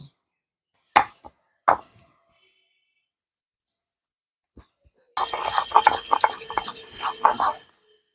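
Ginger is ground into paste for a pangash fish curry: a few sharp, isolated knocks, then a quiet pause, then about two and a half seconds of dense, close, rasping grinding.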